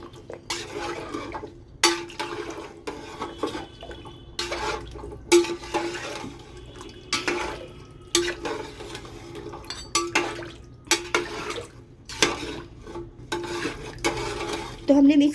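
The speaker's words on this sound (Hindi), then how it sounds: "हम इसको चला देंगे, मसालों के साथ मिक्स कर देंगे हम।" A spoon stirs haddi guddi salan, a bone and marrow curry, with spices in a metal pot, giving repeated sharp scrapes and clanks at irregular intervals over a soft simmering bubble, close by.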